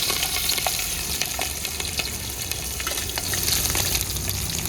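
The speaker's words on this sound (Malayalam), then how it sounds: "നമുക്ക് വെളുത്തുള്ളിയും ഇഞ്ചിയും പച്ചമുളകും കൂടി ഇട്ട് കൊടുത്തേക്കാം" Garlic, ginger and green chillies frying in hot oil for sardine pickle, giving a dense, continuous loud sizzle with scattered crackles and light stirring scrapes, close and without talk.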